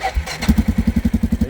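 A farm vehicle engine is started nearby: a brief cranking whine catches and settles into a loud, steady chugging idle of quick, even pulses.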